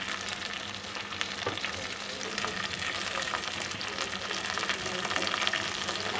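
Tomatoes frying with onions in a pan for Arabian-style bhindi, a continuous close sizzle with occasional spatula scrapes and stirring.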